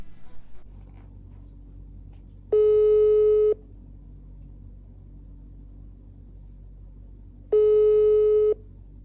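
A telephone ringback tone sounds twice, each a steady, clear beep about a second long, spaced roughly five seconds apart over a low background rumble.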